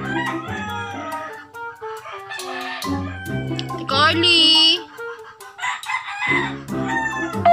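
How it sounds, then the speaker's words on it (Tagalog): A rooster crows loudly and close while chickens cluck repeatedly around it, and a person calls out over the birds. "Ang ingay ng manok!"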